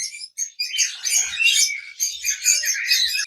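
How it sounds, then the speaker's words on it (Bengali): Lutino cockatiels, a breeding pair at a bird farm, give repeated shrill chirps and squawky calls in quick bursts, close and fairly loud, with no talking. "এখানে লটিনো ককাটাইল ব্রিডিং পেয়ার আছে"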